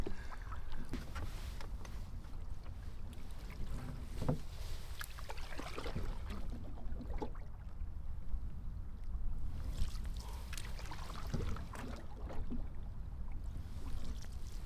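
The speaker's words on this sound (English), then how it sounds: "The wind has suddenly picked right up, but it is a tailwind" Strong wind buffets the microphone during a spring canoe trip on the Lady Evelyn River in Temagami, a steady broadband rush with gusts and occasional water and paddle knocks, no talk.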